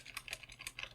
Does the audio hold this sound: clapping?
no